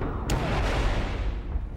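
A building explosion: a heavy, roaring blast with a sharp crack at the start, followed by a sustained rumbling wash of noise.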